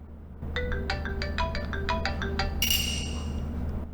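The Marimba ringtone plays on a first-generation iPhone running iPhone OS 3.1.3, a bright, close run of about a dozen plucked mallet-like notes in a bouncy rhythm, ending in a short burst of higher chime sound, with no talk.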